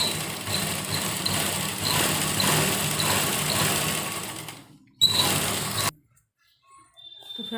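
A sewing machine runs continuously while hemming the cuffs of a pajama, a close, steady mechanical whir that stops, restarts briefly and then cuts out into near silence.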